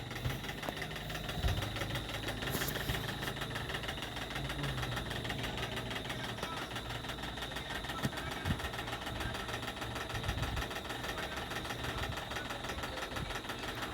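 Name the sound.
sewing machine stitching blouse sleeve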